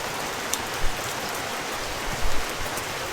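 Steady rain falling outdoors on a cloudy hillside, a continuous soft broadband hiss of drops with a few slightly louder patters, no voices.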